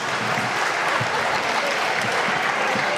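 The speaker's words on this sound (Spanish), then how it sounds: "Dejen de aplaudir, no sean pelotudos" Applause from an audience in a parliamentary chamber, a steady dense wash of clapping held at a constant level for the whole stretch with a faint murmur of voices beneath.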